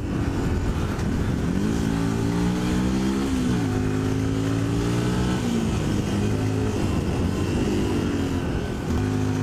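A Yamaha WR125R motorcycle rides along a small country road, its engine droning steadily with rising and falling revs through gear changes, loud and close with constant wind rush throughout.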